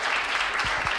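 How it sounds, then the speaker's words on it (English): Applause for a city fire department fills a council meeting room, steady clapping from a crowd that holds for about a second. "let's give them a round of applause"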